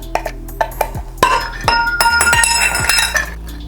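A glass container of CBD hemp flower, a gelato cross, being opened up close, with a series of sharp glassy clinks and taps followed by a brighter ringing clatter as the jar is handled.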